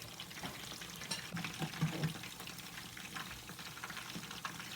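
Green plantain balls fry in hot oil over high heat, giving a soft, steady sizzle and crackle that runs throughout with small bubbling bursts and no talking.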